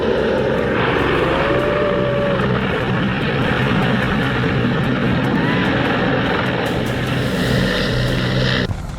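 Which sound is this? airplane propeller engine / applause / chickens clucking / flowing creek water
airplane propeller engine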